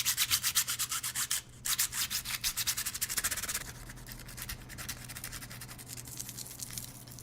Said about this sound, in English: Taking this same material to the iPhone 6 screen with the same force, it actually does scratch as well